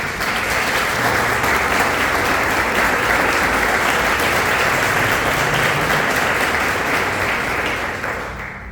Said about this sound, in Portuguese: Nós podemos aplaudir esta palavra.